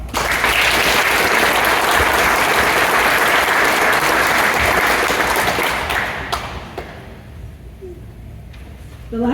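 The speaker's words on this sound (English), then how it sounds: "Let's give them a round of applause." An audience at a school academic awards night claps in loud, sustained applause for about six seconds, then it fades to scattered clapping and room noise.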